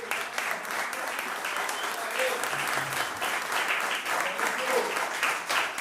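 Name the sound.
audience applause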